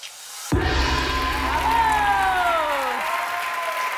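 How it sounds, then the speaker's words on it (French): An audience at a national science-communication finale bursts into applause for a finalist, a sudden loud wave of clapping with a few voices and a rising whoop or sung note over it. "On applaudit Vanessa."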